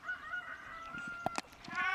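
A rooster crows at a cricket match, a drawn-out call heard at moderate distance over ambient ground noise, with a few brief clucks and clatters midway before the crow swells again.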